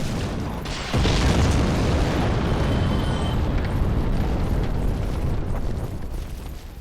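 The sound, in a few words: explosions in Dark Souls video game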